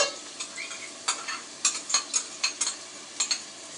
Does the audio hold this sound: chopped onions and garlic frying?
yes